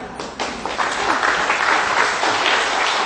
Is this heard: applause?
yes